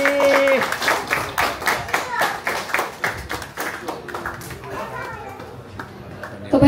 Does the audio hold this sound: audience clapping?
yes